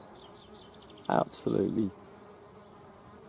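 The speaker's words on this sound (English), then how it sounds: "look at all these bees buzzing around" Bees hum near a bee hotel, a low steady drone under the scene, while a person briefly speaks over it partway through.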